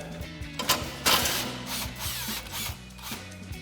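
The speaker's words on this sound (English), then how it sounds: "So we'll grab our 15 mil socket on our impact and go ahead and run that bolt out." An impact wrench with a 15 mm socket runs out an exhaust bolt on a 2019-2024 Silverado or Sierra 1500, firing in short hammering bursts over a busy mechanical background.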